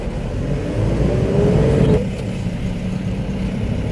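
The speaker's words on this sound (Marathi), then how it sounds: "चला आता आपण गाडी चालूया." A large goods vehicle on a Kolhapur trip to fetch floor tiles pulls away with a close engine note that climbs steadily in pitch, then drops at a gear change into a lower, steady rumble.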